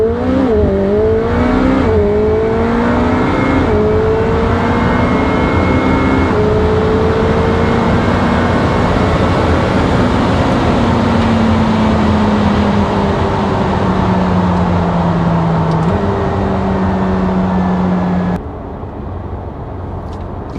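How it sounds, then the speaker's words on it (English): McLaren 720S at full-throttle launch, its engine note climbing loud and steady through rising gear pulls with brief shift dips, then cutting off abruptly near the end. "Launch enabled, waiting full throttle, let the graphs get placed, let that go, and let's see what we get."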